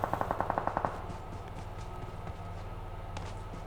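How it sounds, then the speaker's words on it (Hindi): Rapid automatic gunfire from the PUBG video game on an iPad mini 5 cracks out in a quick burst of about nine evenly spaced shots, then gives way to a steady background rumble of game noise. "यहाँ पे फायर हो जाता है मुझे"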